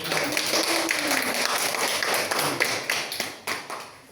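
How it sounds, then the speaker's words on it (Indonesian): A class of pupils claps for a classmate during an Islamic religious education lesson, a dense, steady patter of many small hands lasting throughout, fairly close and busy, with a few louder slaps near the end. "Kasih tepuk tangan untuk."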